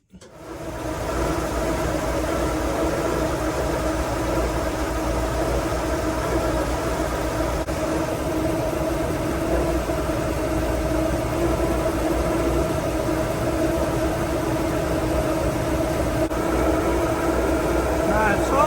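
Inboard boat engine running with the propeller shaft turning around 1,000 RPM during an alignment check, a steady loud drone with humming tones that holds unchanged throughout, heard close up.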